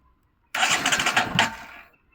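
A Bajaj Pulsar NS 125 motorcycle engine starts after a moment of quiet, catching with a close, rough burst that runs just over a second, then cuts off.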